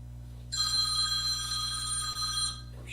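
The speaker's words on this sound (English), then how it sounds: "I'm shutting the damn phone off." A telephone bell rings steadily for about two seconds with a brief catch midway, clear and fairly close over a low electrical hum.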